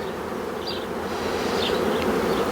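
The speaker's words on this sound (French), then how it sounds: "elle est un peu moins blindée en abeilles" Honeybees buzz steadily around a nucleus hive during the transfer of a swarm, a dense, constant close-up hum with a few individual bees droning past.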